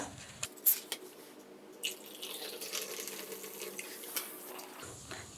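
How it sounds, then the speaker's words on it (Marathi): Soda pours into a glass of lemon-mint syrup, a steady fizzing, trickling stream for several seconds, with a few light clinks at the start. "आता हे सिरप घातल्यानंतर आपण ह्याच्यामध्ये घालायचं आहे सोडा"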